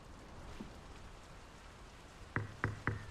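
Rain picking up in the game Draugen: a faint, steady patter of rain on surfaces throughout, with three sharp louder knocks or thuds near the end.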